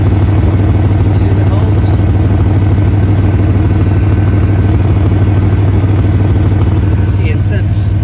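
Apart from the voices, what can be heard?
truck engine with exhaust leak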